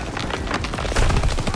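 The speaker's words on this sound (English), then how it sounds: "Gunfire! We must be near our guys." Rapid gunfire in the Call of Duty WWII video game: dense, close bursts of automatic shots and cracks packed tightly together, loud and continuous for about a second and a half.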